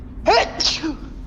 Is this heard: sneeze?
yes